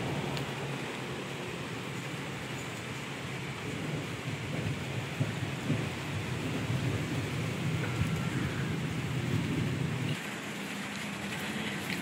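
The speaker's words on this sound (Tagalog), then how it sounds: "May sikat ng araw na maulan." Steady rain falling outdoors near a house during a sunshower, a continuous even hiss with a low rumble, heard alone with no voices.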